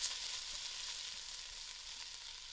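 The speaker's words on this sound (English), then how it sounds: "I'm going to add in my leek. I will allow this to fry nice and soft" Leek and onions frying in a pan for roasted pumpkin soup, a steady, soft hiss of sizzling oil running evenly throughout with no voices.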